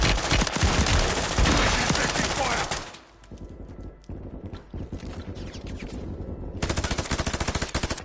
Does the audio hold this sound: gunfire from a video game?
yes